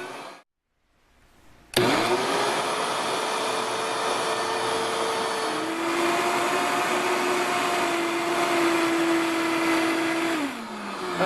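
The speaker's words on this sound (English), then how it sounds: "I have it in my small container on my Vitamix, and this is for the syrup, and I'm just going to give this a quick puree." A Vitamix blender on high purees mango and pear syrup in its small container: a loud, steady whirring roar that starts abruptly, drops slightly in pitch partway through, then winds down near the end.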